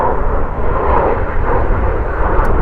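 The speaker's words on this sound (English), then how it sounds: "It's an airplane flying over." A fixed-wing airplane flies overhead near an ayahuasca retreat in Ecuador, a loud, steady, broad engine roar filling the whole stretch with no talking.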